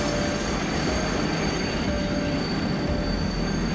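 The KA Jayakarta passenger train at Cikarang, Indonesia, gives a loud, continuous roar with high wheel squeal throughout, a close and unbroken rail noise with no voices.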